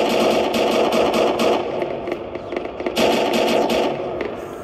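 Rapid automatic gunfire in a zombie shooter video game, sustained bursts of fast cracking shots that stay loud and dense throughout, with a short lull before firing resumes.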